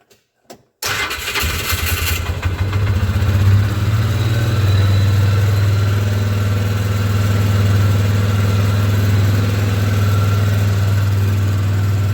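A 2002 Polaris Ranger UTV starts after an oil change on a cold day, catching with a quick crank and settling into a steady, loud, close engine idle with a constant low hum.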